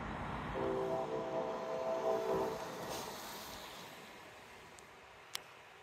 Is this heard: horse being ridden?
no